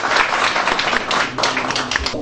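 Municipal councillors at an extraordinary session in Douala's 2nd district applaud by acclamation, a dense burst of many hands clapping together in a room, continuous and moderately loud.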